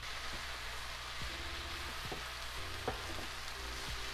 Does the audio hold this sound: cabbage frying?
yes